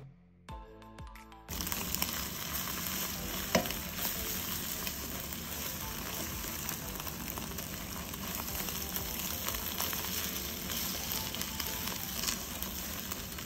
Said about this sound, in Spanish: Y en el mismo sartén que hice los huevitos, estoy haciendo unas arepas.